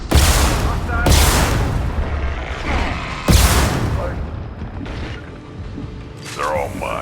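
High-impact gunshots in Mass Effect: two or three heavy booming blasts with sharp onsets and mechanical clatter between them, loud and close.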